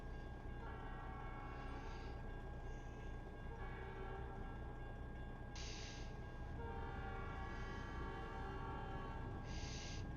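A video-game train sounds its horn in several sustained blasts over a constant rumbling engine.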